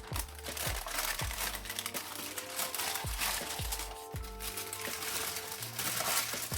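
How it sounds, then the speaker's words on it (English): Paper crinkles and tears continuously up close, rustling and crumpling as wrapping paper is pulled off a pair of 1985 Chicago Air Jordan 1 Low sneakers, over a low background of music. "Let's get the paper off of here."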